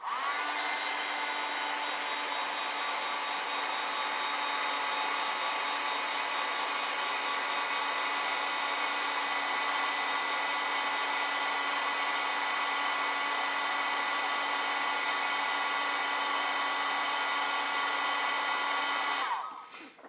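A hair dryer runs steadily at close range, drying watercolor paint in a sketchbook, a constant loud whir that holds for about nineteen seconds before cutting off abruptly.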